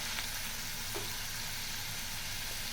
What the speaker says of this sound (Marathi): तेलामध्ये फ्राय केल्यामुळे ओलसरपणा कमी होतो आणि टेस्ट सुद्धा छान होते